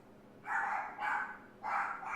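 Puppies barking indoors at home, three clear bursts of high yappy barks in quick succession, fairly close and moderately loud over a quiet room.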